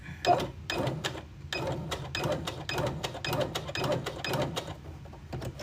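A sewing machine back stitching at the end of a seam, a fast rhythmic clatter of needle strokes in short bursts with brief pauses, close and clear, no talking.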